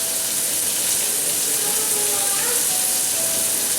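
Onion frying in bacon grease in a pan for a slow-cooked pot roast, giving a steady, close, even sizzle that holds for the whole stretch with no voices over it.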